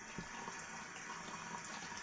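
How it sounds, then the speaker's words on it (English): Water runs steadily from a sink tap while shaving lather is loaded, a constant soft hissing flow that stays even and moderately faint for the whole stretch. "And we're going to load up some more water in this lather."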